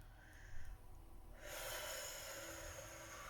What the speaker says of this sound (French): Je souffle, je souffle, je relâche.